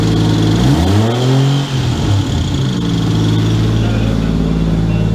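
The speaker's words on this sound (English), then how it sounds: "Got the new exhaust up all together, minus a couple gaskets, but yeah, it sounds pretty good." A Toyota Cressida's 1JZ engine revs up and drops back through a new exhaust missing a couple of gaskets, its note rising and falling in pitch, then settles into a steady, throaty idle close by.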